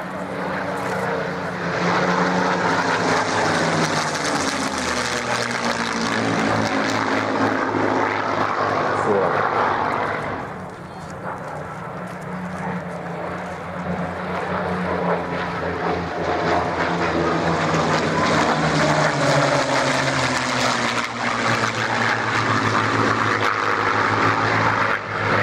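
A P-51 Mustang's piston aircraft engine starts up and runs with its canopy open at an airshow, a loud, sustained propeller drone that dips briefly midway, then swells again, with voices faintly underneath.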